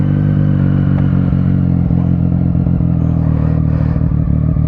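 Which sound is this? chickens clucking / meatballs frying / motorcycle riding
motorcycle riding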